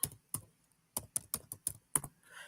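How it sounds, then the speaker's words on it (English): Typing on a computer keyboard: a handful of sharp, close key clicks in an irregular rhythm, some in quick bursts and some spaced apart, against a quiet background. "I'm typing something in here."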